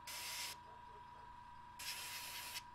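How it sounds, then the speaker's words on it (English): An airbrush sprays paint onto a Mechanicum Ordinatus Sagittar miniature model in two short, close hissing bursts, with a faint steady hum running underneath and quiet pauses between the bursts. "Just hitting highlights, spraying in certain spots."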